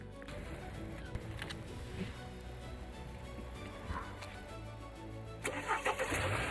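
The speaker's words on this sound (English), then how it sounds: "we'll have to just jump start it now." A BMW M235i, opened up for radiator repair, cranks and starts on a jump start with a low engine rumble under workshop noise, rising louder near the end as it catches.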